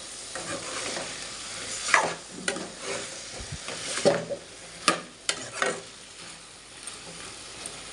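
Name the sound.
stirring and mixing food frying in a pan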